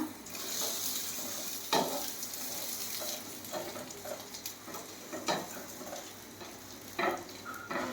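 An egg roll fries in a pan with a steady, close sizzle throughout, broken by a few brief scraping or stirring knocks, and no one speaks.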